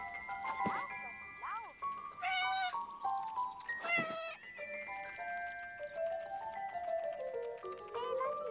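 Lotti, a cat in the game 11-11: Memories Retold, meows several times in short rising calls over soft music, with a voice speaking at times.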